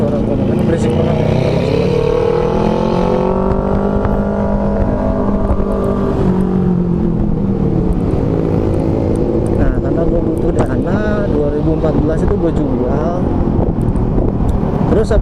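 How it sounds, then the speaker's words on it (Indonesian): An Alva One electric motorbike rides through morning commuter traffic near Bintaro. Loud continuous road and wind roar stays close throughout, with a person talking over it. "Berisik guys, motornya berisik."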